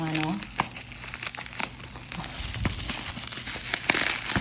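Crinkling plastic packaging of an Orashare O20Pro 20000mAh power bank being opened, close-up crackles and rustles in irregular bursts, with a voice speaking softly underneath.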